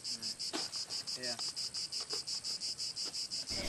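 Crickets at a cricket farm chirp in a steady, evenly spaced pulsing trill, loud and close, with a few faint clicks and bumps underneath.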